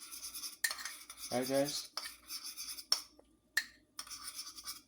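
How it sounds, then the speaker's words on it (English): Sugar and cinnamon whisked together in a bowl, bursts of scraping metal-on-bowl clatter and rapid stirring broken by short pauses and a couple of sharp taps; someone speaks briefly. "I have 2 tablespoons of sugar to a teaspoon of cinnamon. That's in here. I'm just gonna whisk it up, mix it up."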